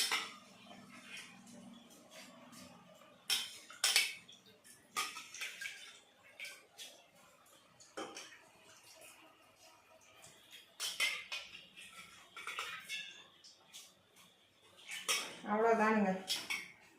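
Rice for arisi paruppu sadham is tipped into a metal pot and stirred, giving scattered clinks and scrapes of a spoon against the pot with a splash of water, close by, with someone speaking briefly near the end.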